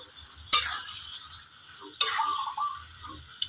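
Metal utensil scrapes and clanks against a wok at intervals, with a soft sizzle of tomatoes, shredded fish and ground spices frying underneath.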